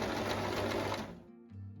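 A sewing machine stitching a bag made of cord runs in a fast, even whir for about a second, then slows and stops, close and clear with no voices.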